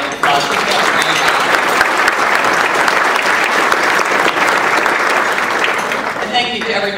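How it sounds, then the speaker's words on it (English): A large audience at a San Joaquin County Hispanic Chamber of Commerce gathering applauds Mark Martinez, a loud, steady wash of clapping that holds for about six seconds before tapering, with a few voices mixed in. "can we give Mark Martinez a round of applause?"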